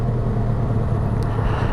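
The engine of a 2023 Benelli 502TRK adventure motorcycle drones steadily while riding in fourth gear, a loud, continuous low rumble mixed with wind noise, with no pauses.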